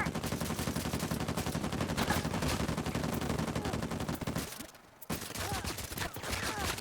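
Rapid automatic gunfire rattles almost continuously in an Uncharted 4 multiplayer match, with a brief lull near the middle before the shooting resumes, moderately distant and steady.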